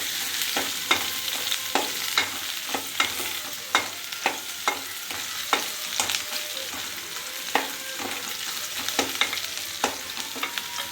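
Onions fry in a pan for idly kurma, producing a constant close sizzle broken by regular sharp scraping strokes of a spoon, with no one speaking.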